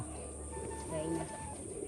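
Soft, low cooing of a pigeon, faint and fairly close, against a quiet background with a steady high hum.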